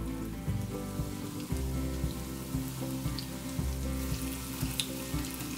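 A slice of white bread dipped in egg and coated in breadcrumbs fries in plenty of hot oil in a heated pan, making a continuous crackling sizzle with soft, regular low thuds beneath it.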